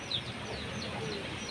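Chickens in a village yard give a faint high chirp over a steady, dense background hiss, with a few soft clucks barely rising above the noise.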